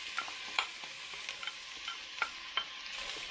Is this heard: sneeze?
no